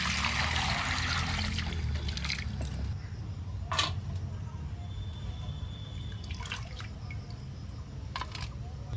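Cleaned bacha river fish being rinsed in water, with steady trickling and dripping close by, then a few splashy sloshes and clinks as the fish is handled, no talking.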